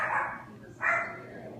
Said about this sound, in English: Excuse my dog, someone's knocking.